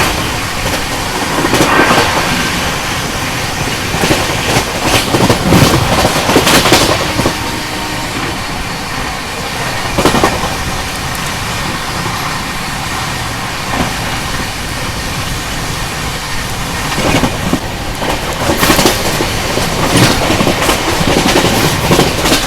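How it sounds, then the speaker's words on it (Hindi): West Bengal Sampark Kranti Express running at speed past Andul Junction, a loud continuous rumble of wheels on rails with rhythmic clickety-clack bursts and rattling carriages, close throughout with no voices. "अपनी वेस्ट बंगाल संपर्क क्रांति एक्सप्रेस अभी स्किप करने वाली है अंडुल जंक्शन रेलवे स्टेशन को"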